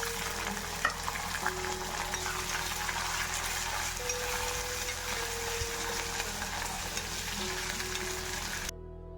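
Green chillies and curry leaves fry in oil, giving a steady, fairly loud sizzle with some crackle. It runs continuously and then drops off abruptly just before the end.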